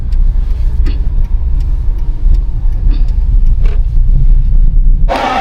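A car's engine rumbles low and steady while the car is parked at a busy circus venue in Kaloor, with faint ticks along the way and a sudden loud hiss-like burst at the very end.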